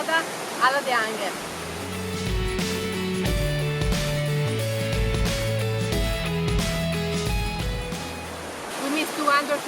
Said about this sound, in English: The second waterfall is Cascada El Chiflon.